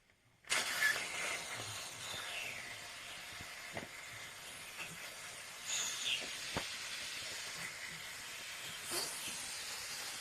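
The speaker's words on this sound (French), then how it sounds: "la vapeur est bien présente" A Dupray Neat steam cleaner hisses steam after its cap is loosened, a sudden loud burst settling into a continuous close hiss with occasional clicks and swells, and no talking.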